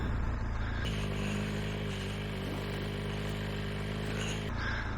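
A motorcycle engine drones steadily at a constant pitch while the bike rides through floodwater on a flooded road, a close, even hum lasting several seconds with no talk.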